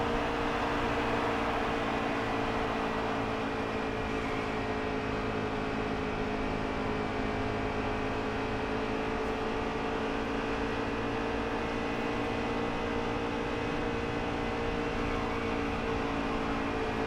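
Race car engine in NASCAR Heat 3, a steady, continuous droning hum at constant pitch, held for the whole stretch with no variation and no talk.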